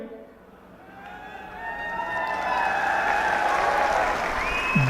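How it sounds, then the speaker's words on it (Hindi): An audience at a Congress party political rally in Haryana breaks into applause that swells and holds steady, a dense crowd clapping with a speaker's voice audible over it. "अभी आपने ताली बजा दी क्योंकि आप समझ गए।"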